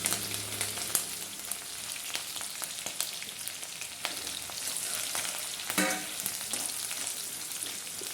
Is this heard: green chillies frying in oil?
yes